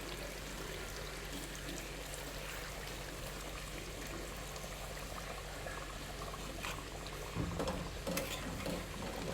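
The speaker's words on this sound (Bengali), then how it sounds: "গরম পানি দিয়ে দিচ্ছি" Hot water poured steadily into a pot of beef curry cooking for Qurbani Eid, a continuous watery rush with a faint simmer beneath and a few louder splashes near the end.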